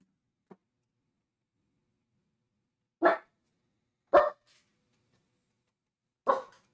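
Three separate dog barks, then a faint yip, ring out alone with long silent gaps between them, fairly close and sharp.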